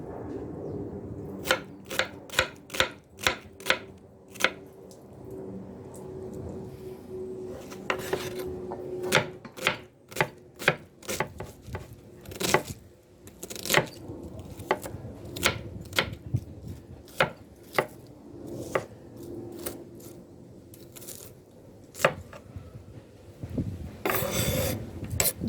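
Half a medium onion chopped on a board for Jamaican seafood stewed peas: a long run of crisp, close knife strikes, irregular rhythm with brief pauses and faster bursts, no talking.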